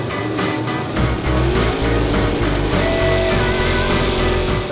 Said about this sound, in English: The burnout is to get the tires hot, to get the tires really sticky.